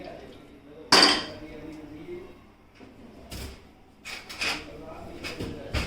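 A metal spoon scrapes and clinks against a sieve as homemade tomato sauce is pushed through it, with one sharp clank near the start followed by softer scraping taps while someone talks.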